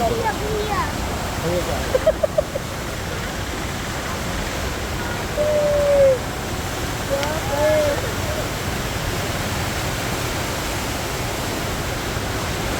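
Continuous roar of rushing river water fills the scene, loud and steady, with a few brief squeaks and chirps breaking through.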